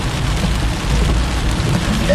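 Steady rain falls during a Florida thunderstorm, a dense, continuous hiss with a low rumbling undertone that holds at an even, fairly loud level for a couple of seconds.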